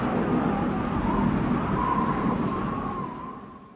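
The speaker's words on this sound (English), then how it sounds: "a dry desert wind" Dry desert wind from McCree's Deadeye effect in the Overwatch video game blows as a broad, steady rushing noise with a faint whining tone, then gradually fades toward the end.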